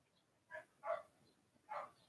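A dog named Alfie barks around tea time, giving three short, faint woofs, the last two spaced apart, with quiet surroundings in between.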